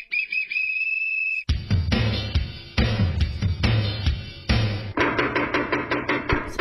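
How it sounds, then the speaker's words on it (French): A door being knocked on in a series of sharp, closely spaced raps that follow a brief tone, with the knocks loud and near and no voices heard. "C'est Ravi qui toque à la porte."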